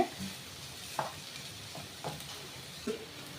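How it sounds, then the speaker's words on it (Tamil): Bitter gourd stir-frying in oil over a medium flame, a soft continuous sizzle broken by a few scattered spatula scrapes and clinks, with no voices. "மீடியம் ஃப்ளேமில் வச்சு ஒரு மூணு நிமிஷம் நல்லா வதக்கி விட்டுக்கோங்க"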